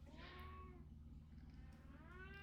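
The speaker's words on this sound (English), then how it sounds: "Yeah, that's my cat for sure." A cat lets out two drawn-out, wavering meows like a caterwaul, close and fairly quiet over a low steady background hum.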